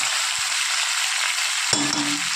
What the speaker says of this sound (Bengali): গাঁটি কচু আলু একটু ভেজে নেব, আবার একসাথে মশলা দিয়ে কষিয়ে নেব।